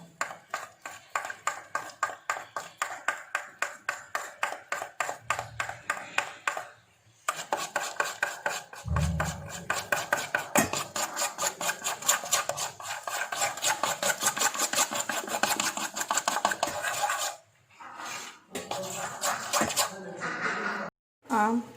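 Gram flour batter for onion pakora is mixed briskly in a bowl, lumps broken up with fast, rhythmic scraping and slapping strokes that run steadily with brief pauses, close and clear, with someone talking over it.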